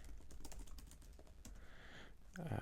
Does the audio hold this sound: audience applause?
no